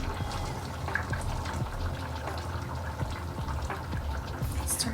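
Canned chickpeas are drained for a vegan Thai red curry, their liquid pouring in a steady, close, gurgling stream with small splashes and clinks throughout, no talking.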